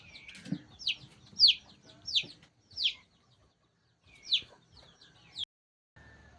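Desi village chickens cluck and squawk close by, a series of sharp, separate calls spaced a second or so apart, with faint farmyard noise underneath and no talking.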